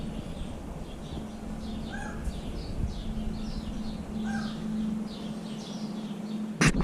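Pheasants in a safari park give a few short, separate calls at moderate distance over a constant low hum, followed by a sharp knock at the very end.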